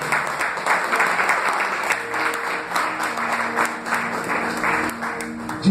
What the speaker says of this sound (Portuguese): Dê uma salva de palmas para a palavra